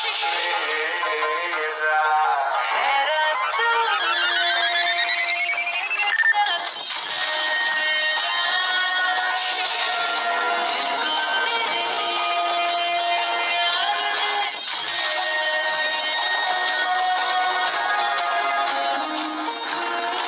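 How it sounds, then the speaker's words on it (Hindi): A phone ringtone for an incoming call plays continuously for about twenty seconds, bright and tonal with a rising sweep early on, loud and alone with no talking. "फोन आ रहा है, प्लीज फोन तो उठा लो"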